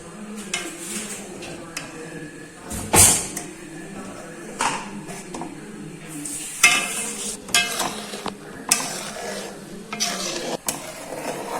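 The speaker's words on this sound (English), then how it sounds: "We have to mix it with a well-known spatula." Spatula stirring and scraping milk in a pan on the stove while making milk cake, soft irregular scrapes and clinks over a faint sizzle, with a louder clatter near the start.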